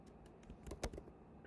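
Keys clatter on a computer keyboard in a short, quiet burst of uneven taps, with one louder keystroke near the middle, during a typography design demonstration.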